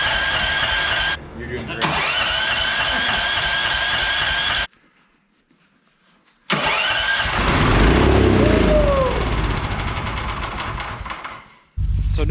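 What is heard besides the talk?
gas auger engine cranking, trying to start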